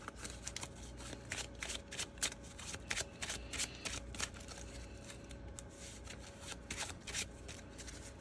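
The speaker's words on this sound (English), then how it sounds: "I'm going to flip and shuffle the top 3 cards of my deck back into my..." Real playing cards from a Marvel card game deck being flipped and shuffled by hand, a steady run of crisp riffling bursts close up with no talk.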